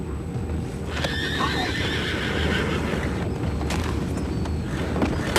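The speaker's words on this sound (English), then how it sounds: "You mind the horses?" Horses whinny and neigh several times over a busy clatter of hooves, loud and close, with no talking, in the video game Red Dead Redemption 2.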